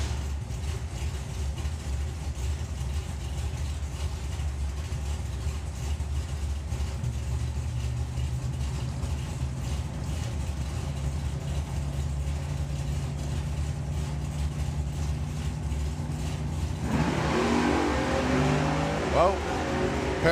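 Drag racing cars, including a Camaro, rumble and idle with a deep, steady engine drone at the STP National Finals strip, and an announcer talks over them before the engine noise rises near the end.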